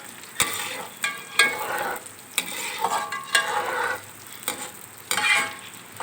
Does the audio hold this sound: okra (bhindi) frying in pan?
yes